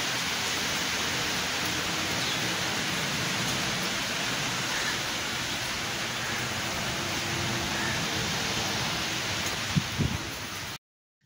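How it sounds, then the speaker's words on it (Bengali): Heavy rain pours down steadily, a dense, even hiss of water on surfaces that continues without pause and then cuts off abruptly at the end. "শুরু হয়ে গেল বৃষ্টি, আবার বৃষ্টি।"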